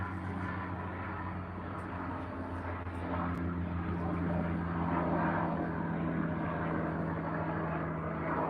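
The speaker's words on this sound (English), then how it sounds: "Look, he hears the helicopter." A helicopter passes overhead, heard as a steady low engine drone that swells slightly as it nears, rumbling on without pause at moderate distance.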